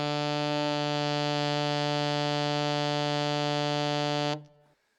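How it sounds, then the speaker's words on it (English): A single sustained low B on an alto saxophone holds steady and loud for about four seconds before cutting off into a short fading tail, played alone. "So this is low B,"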